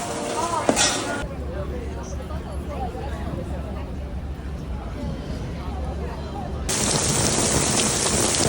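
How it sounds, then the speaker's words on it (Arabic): Steady rain falls in Beijing, a dense hiss that swells louder near the end, with people talking over it. "شو كيف الأجواء هذه الأيام، كلها تمطر"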